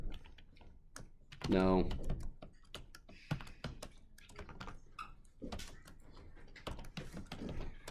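Computer keyboard keys are typed in quick bursts of clicks during a classroom quiz review, with a teacher talking between and over them.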